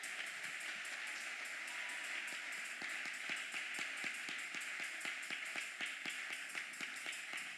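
A church congregation claps for the Lord during a French-language sermon, a steady run of brisk handclaps ringing out over a sustained hum, with no voices on top.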